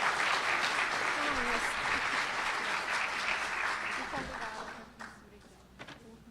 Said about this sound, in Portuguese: Gente, uma salva de palmas, então,